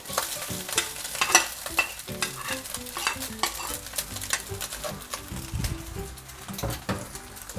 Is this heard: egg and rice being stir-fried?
yes